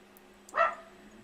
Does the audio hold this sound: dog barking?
yes